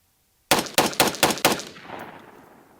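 A Brownells BRN-180 Gen 3 piston rifle with a 16-inch barrel firing five .223 Remington 55 grain boat tail rounds in quick succession outdoors, each shot a loud sharp crack, followed by a fading echo.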